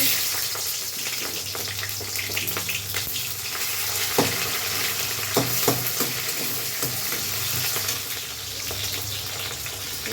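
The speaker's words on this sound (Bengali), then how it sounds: "একটু পেঁয়াজ দিচ্ছি" Sliced onion fries in white oil and ghee in a kadai wok, a steady close sizzle with scattered scrapes and knocks from the stirring spoon, and no voices.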